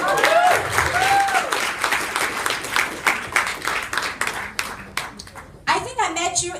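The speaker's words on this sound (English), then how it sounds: "give her a big round of applause." Audience applause at a live event in Jakarta, dense clapping filling the room throughout, with a voice talking over it near the start and again at the end.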